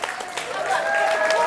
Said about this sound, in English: how about a big applause for Aaron?